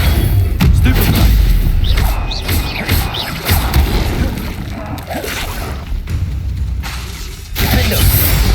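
Confringo fire spell explosions in Hogwarts Legacy, loud booming blasts and thuds layered with crashing combat noise across the whole stretch, dense and continuous rather than isolated, with no clear talking.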